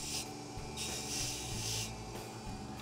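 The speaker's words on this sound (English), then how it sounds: "And these are plastic-laden abrasive brushes." A moderately coarse plastic-laden abrasive brush rubs over mokume gane metal to etch it, producing close, steady rasping strokes in repeated bursts, alone without talk.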